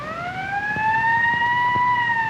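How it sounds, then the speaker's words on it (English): An ambulance siren wails in a steady rising sweep, loud and drawing closer, with no voices over it, from a 1947 Hollywood film. "There's the ambulance now."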